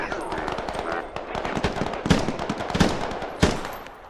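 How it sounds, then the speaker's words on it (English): Gunfire in the military shooter game Squad, a rapid string of close, sharp rifle shots with a few louder single cracks, and voices talking beneath the shooting. "I'm gonna open fire."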